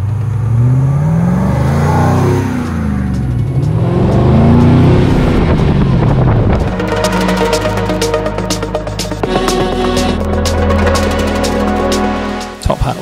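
Restored Land Rover Series IIA with a 6.2-litre V8 and six-speed automatic, heard up close as loud engine revving rises and falls, then settles into a steady deep idle with a fast throb.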